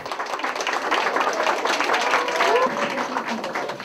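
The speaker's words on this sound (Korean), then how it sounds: "환영하는 열렬한 박수 소리" Roughly a hundred fans clap warmly to welcome guests at a fan meeting held inside a Seoul church, a dense, continuous patter of applause filling the room with voices mingled in.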